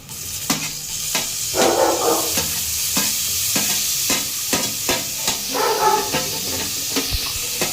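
Tomatoes fry with ginger garlic paste for biryani in a pan, a constant hissing sizzle broken by repeated sharp spatula scrapes and taps at a fairly even rhythm.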